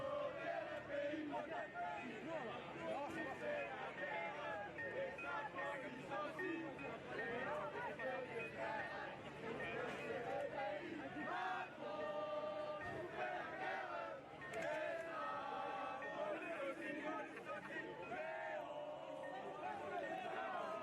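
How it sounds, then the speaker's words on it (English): A large crowd of protesters mills about in France after a rally and march, producing a dense, continuous hubbub of many overlapping voices and shouts that fills the whole stretch at steady loudness. "that crowd is pretty large"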